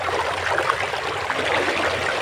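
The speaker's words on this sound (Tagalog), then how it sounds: "Malakas na yung tubig." Strong river current rushing past nearby, a steady broadband roar of flowing water with constant trickling and splashing, no voices.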